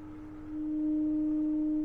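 Steady pure test tone plays through a refurbished JBL 4343 speaker, clean and sustained, growing slightly louder partway through, with no voices.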